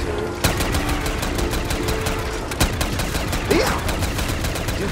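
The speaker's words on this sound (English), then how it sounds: "I went to just full minigun usage now." A video-game minigun fires at zombies in a rapid, steady stream of loud mechanical shots, with a few sharper cracks standing out over the continuous rattling burst.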